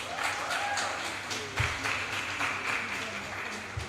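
Applause from the audience at a high school prize giving ceremony, a dense continuous patter of clapping that holds steady for a few seconds.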